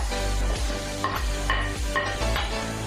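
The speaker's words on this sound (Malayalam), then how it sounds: "അതൊന്ന് മിക്സ് ചെയ്ത് കൊടുക്കാം" A spice paste for duck mappas is stirred in a pan, and a spoon scrapes and taps the metal in a few distinct strokes roughly every half second over a soft, continuous sizzle.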